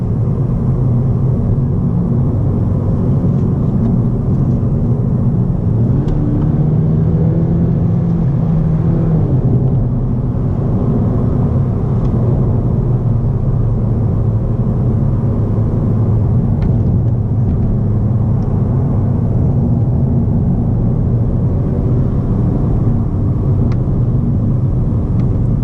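A 2017 Honda Civic Si four-door's engine pulls steadily uphill as a continuous low drone with road rumble, loud and even throughout, with no talking.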